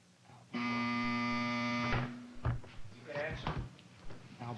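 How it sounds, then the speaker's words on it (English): A harsh electronic quiz buzzer blares for about a second and a half during a high school quiz match, followed by a couple of knocks and a voice speaking. "The buzzer has sounded."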